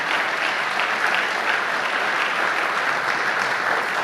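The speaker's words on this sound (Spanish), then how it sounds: "Dale el aplauso al Señor." Steady, dense applause from a church congregation fills the space evenly, many hands clapping loudly and continuously without pause or voices.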